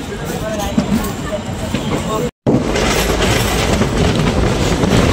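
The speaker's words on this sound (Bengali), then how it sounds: "নিউ বঙ্গাইগাঁও থেকে পাতিলাধা পর্যন্ত যাত্রা অতিক্রম করলো ট্রেন 27 কিলোমিটার" Sifhung Express train rolling on rails between New Bongaigaon and Patiladha, a loud, steady roar of wheels and carriage rumble that cuts out briefly midway, then resumes.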